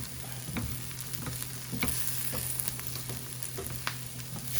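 Diced potatoes, peppers and onions cook in a pan over low heat for an omelette, making a soft, steady crackling sizzle with scattered small pops and a faint low hum underneath, and no one speaking.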